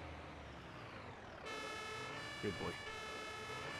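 A fire engine siren in a firefighting simulation game starts abruptly partway through and wails steadily nearby, while someone speaks briefly over it.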